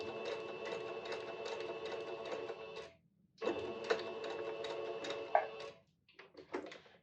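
A sewing machine stitches a waist dart in two steady runs of rapid mechanical whirring, separated by a short pause, then ending in a few brief stop-start bursts; close and fairly quiet.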